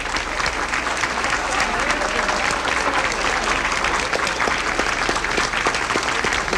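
Steady applause from a large audience for President Gerald Ford at a 1975 public appearance, dense clapping filling the whole stretch with murmuring voices underneath.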